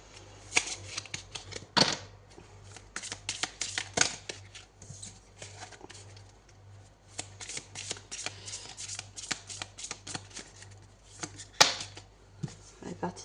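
Tarot cards being handled and drawn one at a time, with dense papery slaps, flicks and riffles in steady bursts over a faint low hum, close and clear, with quiet talk around them.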